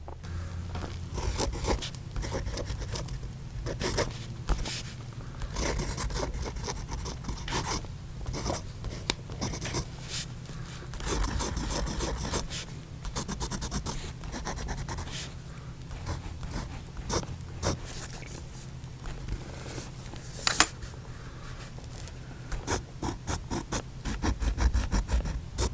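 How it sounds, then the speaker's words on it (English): A fountain pen nib scratching across paper while writing, a dense, dry rasp of quick strokes and small ticks, close and continuous with brief pauses between words. "you heard the nib on the paper, especially, you know, the horizontal strokes versus the vertical strokes"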